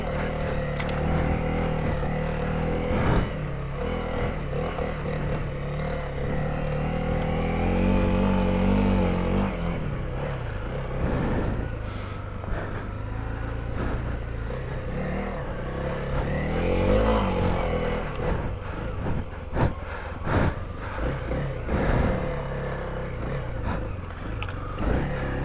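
A Honda CRF300L dual sport motorcycle engine drones steadily while riding through the Utah desert, geared low with a continuous loud, rough hum that swells and wavers slightly, and a voice speaks briefly over it.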